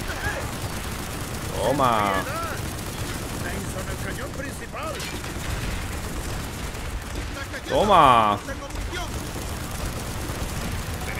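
Gunfire from the video game Call of Duty Black Ops rumbles in dense bursts across the whole stretch, loud and continuous, with excited shouting over it.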